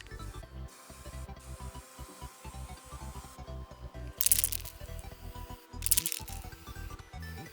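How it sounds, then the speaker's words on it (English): Two short bursts of aerosol black spray paint hiss onto a metal Surform rasp, cutting through steady low clattering and rubbing handling noise, close by. "now I'm gonna tape the end and spray this whole thing black"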